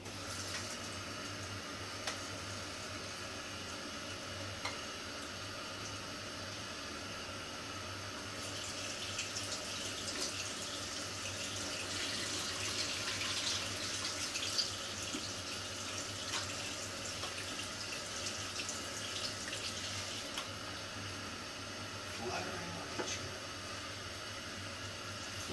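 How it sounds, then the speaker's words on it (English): Mushrooms get rinsed under a running kitchen sink tap, a faint, continuous hiss of flowing water that swells slightly in the middle of the rinse, quiet and without talk. "I'm going to give it a tiny little rinse in the sink"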